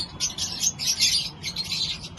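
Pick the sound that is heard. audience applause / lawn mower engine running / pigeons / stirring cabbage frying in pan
pigeons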